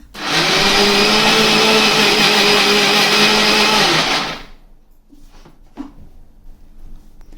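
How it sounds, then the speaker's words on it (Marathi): A mixer grinder grinding a semolina mixture runs loudly and steadily for about four seconds, then stops, leaving quiet room noise with a couple of faint knocks. "इथे आपण थोडं थोडं मिश्रण मिक्सरमध्ये लावून घेणार आहोत"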